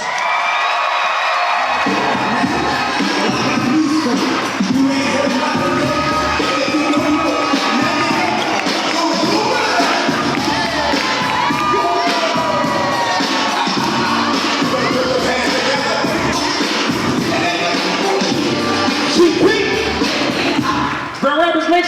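A large theater crowd at a Grand Rapids comedy show cheers, whoops and applauds loudly and continuously for a comedian taking the stage, with a dense wall of clapping and shouting filling the hall.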